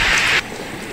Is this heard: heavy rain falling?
yes